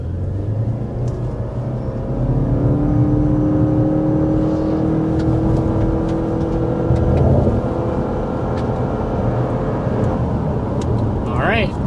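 A 2026 Toyota RAV4 SUV accelerates hard from a standstill to 60 mph, a steady engine drone rising in pitch over about twelve seconds, heard from inside the cabin with a constant road rumble beneath it.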